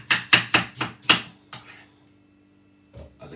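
A knife chops firmly through pineapple on a board, five quick cuts in a row, then a couple of softer knocks after a pause.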